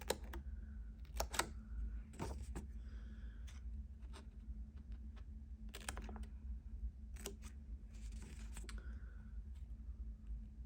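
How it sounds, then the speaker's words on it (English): Scissors cut holes into planner paper for a mini Happy Planner insert, producing sharp, separate snips and clicks spaced irregularly over a faint steady hum. "Just going to cut each hole here."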